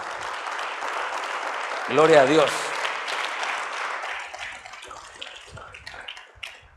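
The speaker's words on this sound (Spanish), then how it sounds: "Le da un aplauso al Señor," A church congregation applauds during an evangelical service: a dense, loud burst of clapping that swells briefly, while a voice speaks over it.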